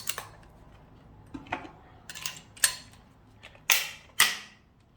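A Makita multi tool's Starlock blade mount gives a series of sharp plastic-and-metal clicks. There are about seven crisp snaps, irregularly spaced and growing louder toward the end, close up in a quiet room.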